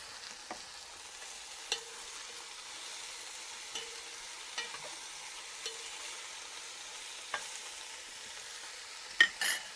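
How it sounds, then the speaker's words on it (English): Chorizo meat searing in hot oil in a cast-iron Dutch pot outdoors: a steady soft sizzle with occasional stirring scrapes and taps, ending in a louder clank. "so that's ready to start frying the meat"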